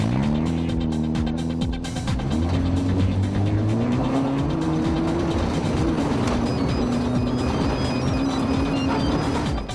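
Rally car engine roars continuously, revving up and down through gear changes, loud and close as from inside the car, with rattling and road noise throughout.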